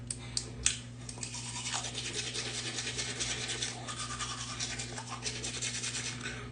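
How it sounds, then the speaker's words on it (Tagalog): Teeth being brushed with a toothbrush, a steady close scrubbing rasp that runs throughout with a few sharper knocks near the start, indoors with a constant background hum. "Toothbrush muna tayo."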